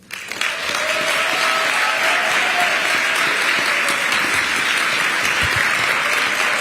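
Loud, sustained applause from a large audience at a Brooklyn Museum event, a dense wash of clapping that rises quickly and holds steady throughout.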